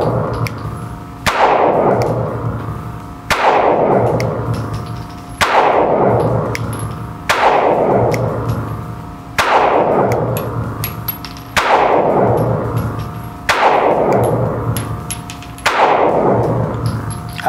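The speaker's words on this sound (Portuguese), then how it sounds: "Segunda sequência de disparos com munição ETOG da CBC, distância 10 metros" Eight sharp shots from a Sig Sauer P320 M18 pistol firing CBC ETOG ammunition at a reactive target 10 metres away ring out one at a time at an even, unhurried pace, each followed by a lingering, ringing decay.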